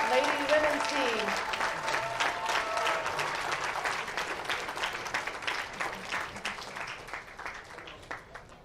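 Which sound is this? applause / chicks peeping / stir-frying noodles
applause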